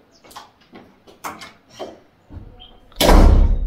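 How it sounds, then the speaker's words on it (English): A door at home swings shut with a loud, full thud near the end, after a series of softer shuffles, knocks and handling sounds close by. "Close my door."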